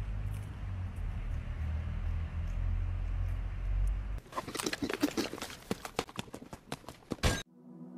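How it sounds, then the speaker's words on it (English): Horse hooves clip-clop in a quick, close, rhythmic series of sharp knocks after a low rumbling background, then stop abruptly. "The horse is here."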